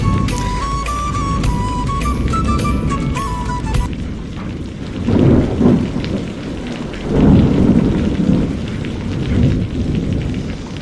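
Heavy rain pours steadily on a flooded, traffic-jammed road in Hyderabad, with deep thunder rumbling loudly after a short stretch of music at the start.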